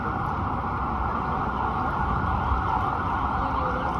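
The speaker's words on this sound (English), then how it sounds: "That's an ambulance responding." An ambulance siren wails steadily on a Midtown Manhattan street along 42nd Street, loud and sustained over the hum of city traffic.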